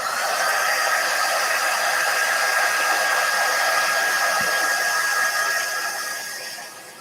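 A hair dryer blows over chalk paste on a wooden pallet sign, a loud, steady, close rushing hiss that holds for several seconds before easing off at the end.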